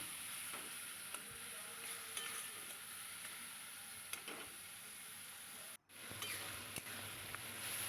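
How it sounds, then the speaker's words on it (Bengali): Tomato-laced spice paste sautéed in a pan for a taro-stem curry, a steady close sizzle with faint scraping stir strokes and one brief dropout near the end, no voices. "ভালো করে মশলাটা কষিয়ে নিচ্ছি।"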